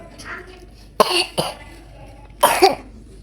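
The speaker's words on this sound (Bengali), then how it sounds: "সবার ঘরে ঘরে জ্বর ঠান্ডা কাশি" Coughing from a cold: two separate bursts of harsh coughs, each with a couple of close, loud hacks and short pauses between.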